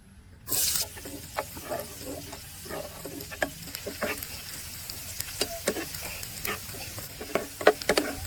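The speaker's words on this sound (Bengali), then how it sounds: "মাছ ভাজা তেলে পেঁয়াজ কুচিয়ে দিয়ে দিব।" Chopped onions hit oil left over from frying pangas fish with a sudden loud sizzle, followed by quieter crackling and stirring clatter.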